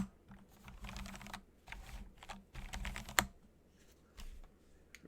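Fast typing on a computer keyboard in quick close bursts of key clacks with short pauses between them and one sharper louder click, no voices.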